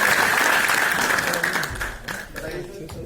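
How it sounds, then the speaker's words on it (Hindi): Loud audience applause fills a hotel event hall in Padrauna, dense clapping that holds steady and then gradually thins and tapers off toward the end. "एक जोरदार तालियां हो जाए हमारे"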